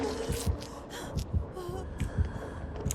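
The killer's terror radius heartbeat in the video game Dead by Daylight thumps in a steady, close, heavy double-beat rhythm, repeating about four times over a few seconds beneath faint game noise.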